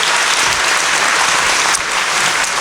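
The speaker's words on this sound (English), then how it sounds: "by all means applaud after each student if you'd like" An audience claps steadily and loudly for a student at an elementary school moving-up ceremony, dense applause filling the whole stretch without talk.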